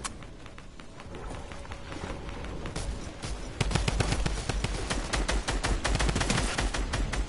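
Rapid video game gunfire crackles in dense bursts, sparse at first and then building into a loud, continuous volley of shots that runs to the end.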